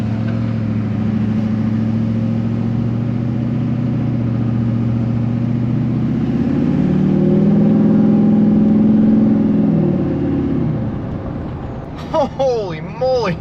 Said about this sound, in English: You can actually hear the motor of the truck, and it's not just straight turbo, man.